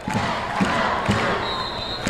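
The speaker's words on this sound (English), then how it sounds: "Hoseth comes up to the line and starts the Let's Go Lutes cheer" Stadium crowd at a 1994 NAIA Division II football championship, PLU against Westminster, chanting the Let's Go Lutes cheer in a steady rhythmic pulse, with distant thumping accents under broad crowd noise.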